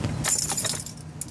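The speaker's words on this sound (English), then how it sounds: "Start the car first." Keys jangle briefly and brightly as a car is started, the metallic chiming close and loud over a low engine rumble, with no talk.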